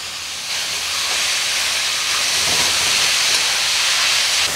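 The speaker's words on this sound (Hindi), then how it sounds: "अब ऊपर से हम डाल देंगे पूरा ये चुकंदर और 4 से 5 मिनट तक मीडियम फ्लेम पे अच्छे से भून लेंगे।" Beetroot for halwa roasting in a pan over a medium flame, a broad steady hiss that swells slightly after the first moment and holds evenly, close and fairly loud.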